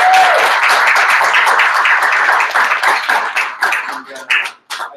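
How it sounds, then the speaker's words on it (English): Audience applause after a meetup talk on economics and politics, a dense burst of many hands clapping close by that thins out and fades over a few seconds, with a voice faintly heard at the start. "And another round of applause."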